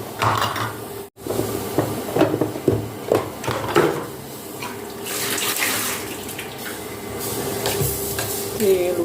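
A spoon stirring hot vegetable curry in a pot, with irregular scraping and liquid sloshing sounds, some faint background noise and a brief dropout early on.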